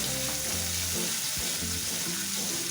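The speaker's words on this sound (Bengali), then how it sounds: "আমি চিংড়ি মাছগুলো একসাথেই ফ্রাই করব" Marinated prawns frying in hot oil for a Bengali lau chingri dish, giving a steady, close, loud sizzle with occasional stirring and no talk.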